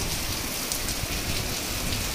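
A downpour of heavy rain roars steadily and up close, a thick, unbroken wash of drops beating on surfaces, with no voices.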